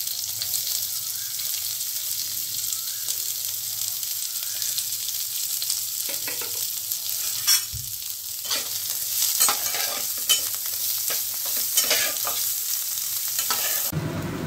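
Onion fries in hot oil with dried chili, mustard seeds and curry leaves for poha pulao, a steady bright sizzle with occasional spatula scrapes and stirring clatter, ending with a sharp burst.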